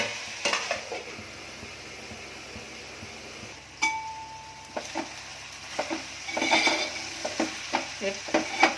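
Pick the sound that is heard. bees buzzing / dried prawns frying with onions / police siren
dried prawns frying with onions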